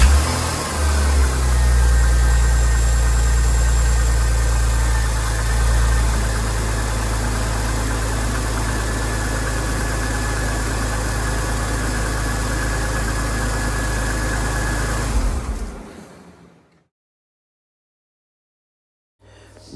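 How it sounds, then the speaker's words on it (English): A Rover 75 KV6 V6 petrol engine cranks and settles into a steady, smooth idle close by, a strong low rumble holding for about fifteen seconds before it is switched off and falls silent. "I will just start up the engine and make sure everything sounds right."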